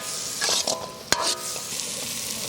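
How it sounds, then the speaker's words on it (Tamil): Fried yam simmers in a masala in a large pot for a wedding-style feast, bubbling and hissing close up while a spoon stirs through it, with one sharp scrape against the pot. "நல்லா கொதிக்குது."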